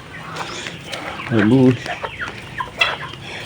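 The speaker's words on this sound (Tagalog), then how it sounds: "Rhode Island Red tsaka native na inahin so ayan, ayan sila dyan" Rhode Island Red and native hens cluck in short bursts, with one louder, drawn-out squawk in the middle over a busy farmyard background of scattered bird calls.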